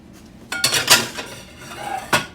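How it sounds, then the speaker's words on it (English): A utensil clinks and scrapes against a bowl while stirring an egg mixture for ham egg cups, with a few sharp, close knocks between softer swishing and no talking. "And I'm gonna stir that right away because anytime you introduce hot to cold in eggs, begin to cook the eggs"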